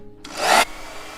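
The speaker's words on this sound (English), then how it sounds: "Blow dryer. Hold on." A blow dryer blasts on wet paint for about half a second, a loud, broad rushing hiss that cuts off abruptly, with no talk.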